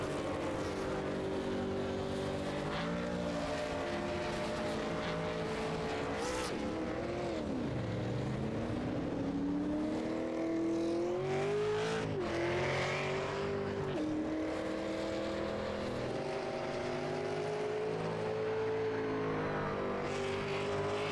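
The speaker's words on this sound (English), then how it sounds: "There we go, cars on pit road here right at the moment." Super late model race cars rolling down pit road at the Milwaukee Mile in a racing video game, a steady engine drone with rising and falling pitch sweeps as cars accelerate and pass, continuous and fairly loud throughout.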